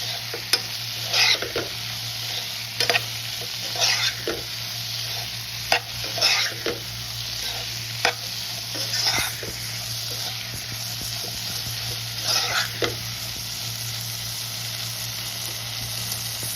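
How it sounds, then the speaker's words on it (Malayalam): Sliced plantains coated in masala sizzle steadily in a frying pan while a spoon scrapes and stirs them in repeated strokes, close and clear over the continuous hiss of frying. "നമുക്ക് നന്നായിട്ടൊന്ന് ഇളക്കി കൊടുക്കാം"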